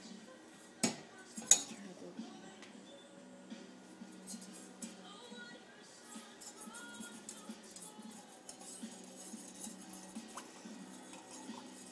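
Country gravy being stirred in a pot on a very hot stovetop burner, with a couple of sharp utensil clinks against the pot near the start, then soft, steady scraping and stirring at low volume.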